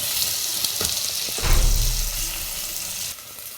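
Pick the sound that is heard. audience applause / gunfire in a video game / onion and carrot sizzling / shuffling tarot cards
onion and carrot sizzling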